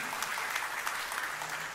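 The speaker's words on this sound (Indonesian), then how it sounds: "Tepuk tangan yang meriah untuk kemuliaan Tuhan." A congregation claps at a church service, steady lively applause from many hands throughout, fairly distant and even.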